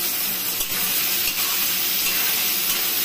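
Potatoes for potoler dalna fry in a pan with a loud, continuous hissing sizzle that holds steady throughout, with no voices.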